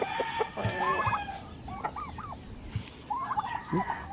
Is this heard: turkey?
yes